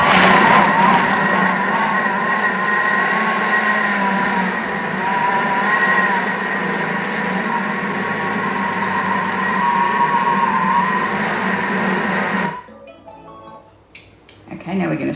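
A kitchen mixer whirs steadily for about twelve seconds on speed 6 while mixing ginger nut biscuit dough with a whole egg, lid on, then cuts off abruptly into near quiet.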